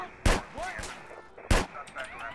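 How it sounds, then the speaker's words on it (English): Two sharp, loud gunshots about a second apart in a Grand Theft Auto DYOM mission, with faint speech and game-like electronic tones between them. "I hear lots of gunfire."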